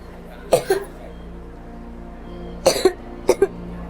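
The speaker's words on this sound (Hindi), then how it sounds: "दिखता नहीं बच्चा कितना खांस रहा है" A sick child coughs in a hospital scene of a crime drama, in three separate fits. A double cough comes early, then a harsher cluster, then two quick sharp coughs, all close and loud over a quiet room hum.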